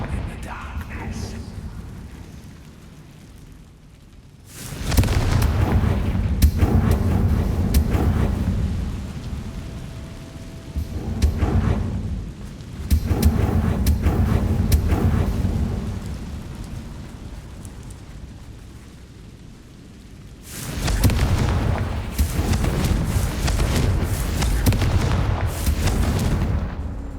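A Confringo blasting spell cast in a Harry Potter video game, repeated heavy explosive booms with a rumbling, thunder-like roar that swells and fades three times, loud and close amid an ambient rain-like wash.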